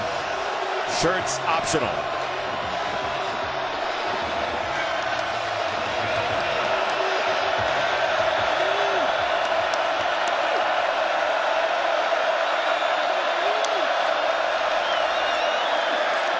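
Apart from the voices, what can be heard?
stadium crowd cheering at TCU at Kansas football game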